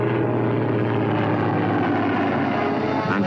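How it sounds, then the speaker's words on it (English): Fleet Air Arm aircraft drone overhead above a wartime naval convoy, a loud continuous propeller-engine roar with a steady low hum throughout, alone. "planes of the Fleet Air Arm and Coastal Command patrol the skies"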